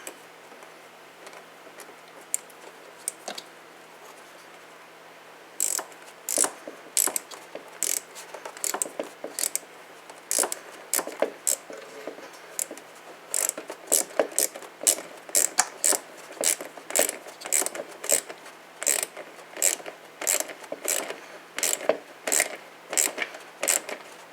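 A ratchet tightening a bolt on the radiator of a 2004 Volvo XC90, producing rapid repeated clicking strokes in bursts, close and fairly loud, after a few sparse ticks at the start.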